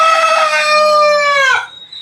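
A rooster crows once, loud and close, in a single drawn-out call of about a second and a half at a backyard chicken coop, then falls silent.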